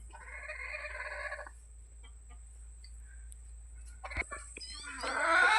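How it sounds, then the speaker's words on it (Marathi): A broody free-range village hen clucks in low, repeated bursts for the first second or so, then a brief quiet stretch before rustling and other fowl sounds build near the end. "ही प्युअर गावरान खुडूप कोंबडी आहे"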